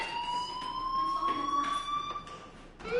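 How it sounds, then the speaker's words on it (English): A fire alarm rings in the video game Life Is Strange as a steady, shrill electronic tone that is loud and continuous, with a faint voice in the background. "Hey, do you hear that fire alarm?"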